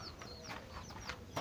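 Young chicks in a poultry pen give soft, rapid chirps and clucks over a low background hiss, close but faint.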